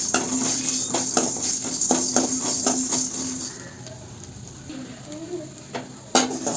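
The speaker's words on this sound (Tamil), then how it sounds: "அடுப்பியை குறைவாக வச்சு இது போல் நல்லா வறுத்துக்கணும்" Chilies roasting in a pan over a low flame, with a soft sizzle and a run of quick metal scraping and stirring strokes that thin out into quieter pan rattles, close by.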